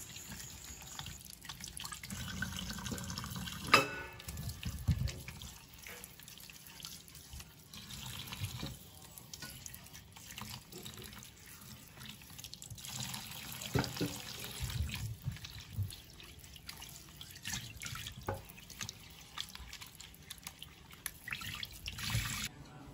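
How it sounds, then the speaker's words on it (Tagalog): Mangoes are washed under a running kitchen tap, water streaming and splashing into a sink with drips and trickles, steady and fairly quiet, with handling noises and no talk. "Hugasan po natin ang mangga."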